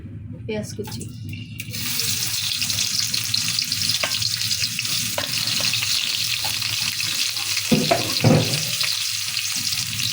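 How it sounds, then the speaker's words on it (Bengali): Chopped onions dropped into hot oil in a pan for a rohu fish and Malabar spinach dish, a loud sizzle that starts abruptly and then hisses steadily, with a few clinks of stirring near the end. "এখন দিয়ে দিচ্ছি পেঁয়াজ কুচি"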